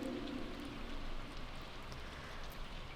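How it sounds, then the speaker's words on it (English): Steady rain falling in the Stardew Valley farming game, a soft continuous hiss of drops holding an even level throughout, with no talking. "But it is raining today"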